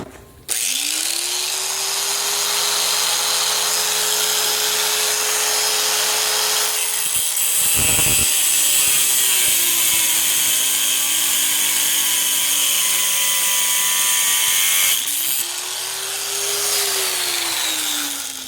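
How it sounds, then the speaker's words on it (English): An abrasive cutoff wheel grinds through a length of steel all-thread rod for a John Deere D160 hood hinge repair, a loud steady high-pitched shriek with the motor pitch dropping under load and rising again between cuts, with no talk. "So let's cut this piece of all thread and try try to do it safely."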